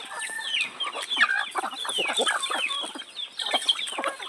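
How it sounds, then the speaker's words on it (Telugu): A flock of chickens clucks and chatters nearby, many overlapping calls in busy, uneven bursts. "గేట్ ఓపెన్ చేసిన తర్వాత నన్ను చూసాయంటే కోళ్ళు మొత్తం వచ్చేస్తాయని"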